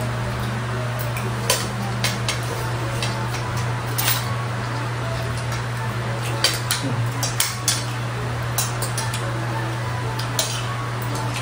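Plates and cutlery clinking at a table during a meal, scattered light metallic and ceramic taps at irregular intervals over a low steady hum.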